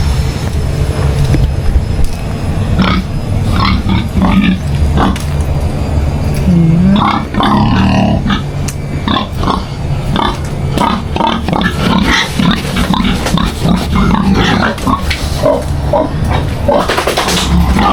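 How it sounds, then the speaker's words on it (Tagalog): Pigs in a pen grunt and stir through a continuous low, noisy rumble, with steady background activity and no clear speech over it. "tingnan natin yung baboy"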